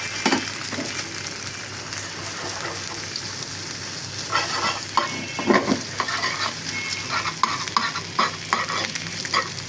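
Eggs with onion and green chili fry in a small, warped frying pan with a continuous close sizzle, broken by repeated scraping and stirring strokes that grow more frequent toward the end.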